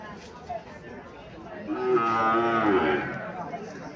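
A crossbred bull calf at a cattle market in Chandimora, Comilla, lets out one drawn-out, fairly close moo midway, while people chatter in the background throughout.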